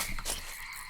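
Frogs croak in a short, busy burst of outdoor chorus, close and fairly loud, with no voices.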